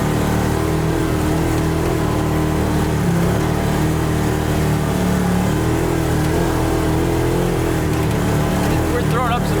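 A Hellwig Operator F-350 truck in two-wheel drive driving on a dusty surface with slight wheel slip: a continuous loud engine drone and road roar with wind noise, and people talking over it.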